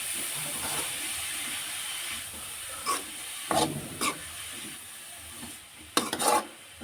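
Vegetables including carrots fry in a pan under a soft, faint hiss, while a few brief scraping strokes of stirring and mixing stand out over a quiet background.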